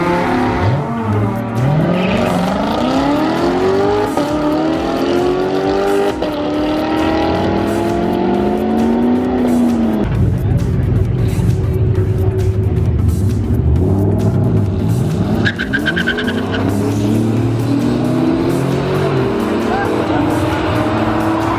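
Lamborghini Huracan on a drag strip, engine revving loudly with rising and falling pitch sweeps as it accelerates through gears, continuous and close, with people talking over it at times.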